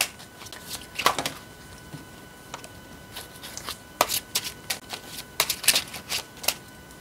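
Tarot cards are shuffled and handled close up, with irregular crisp riffles and slaps in short bursts, some brief and some longer, and no talking.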